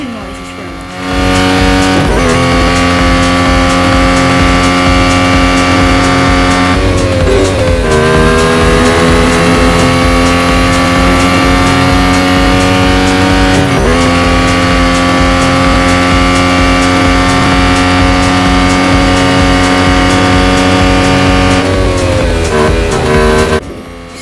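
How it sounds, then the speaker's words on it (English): Race car engine in the Real Racing 3 mobile racing game, a loud sustained drone with steady high revs and brief dips as gears shift, continuous for over twenty seconds. "I'm gonna let you hear the engine noises for a little bit"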